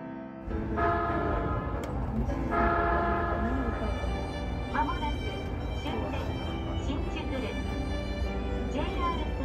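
A train rumbles steadily as it passes through Sangubashi Station on the Odakyu Line in Tokyo without stopping, with a sustained horn-like tone near the start and a person talking over the noise.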